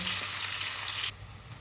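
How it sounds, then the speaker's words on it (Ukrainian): Steady sizzling of fresh bell pepper strips frying in a pan for chicken paprikash, a dense bright hiss that drops noticeably quieter near the end, with no talking. "Ще жаримо 7-8 хвилин."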